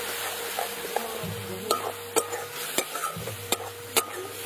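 Turmeric, coriander powder and Kashmiri red chilli powder being stir-fried into a masala in a pan, a steady low sizzle broken by sharp scrapes and clacks of the spoon against the metal, close and without talk.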